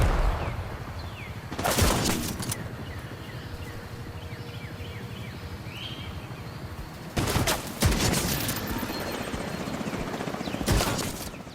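The Shroud Marksman Rifle fires three loud, widely spaced single shots in Division 2, each a sharp blast with a short tail over a low, steady background hum.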